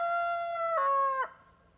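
A rooster crows once, loud and close, in a single drawn-out call that rises in pitch midway and then cuts off abruptly, heard alone with no talk.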